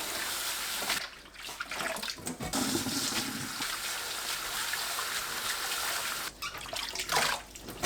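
Bellflower roots (doraji) are rinsed in water, a continuous splashing and sloshing with a running-water wash and a few sharper splashes, close but soft, with no talking.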